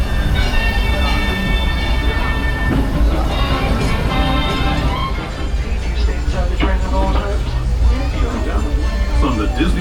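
A Disneyland Railroad train rolling into the Toontown Depot, with steady rumbling and clattering of the rail cars and squealing wheels under a continuous public-address announcement and crowd murmur.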